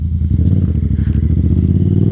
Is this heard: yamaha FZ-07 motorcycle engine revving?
yes